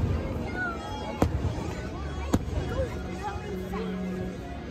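Two sharp fireworks bangs ring out over a steady outdoor theme-park crowd murmur, with faint whistles and crackles in between.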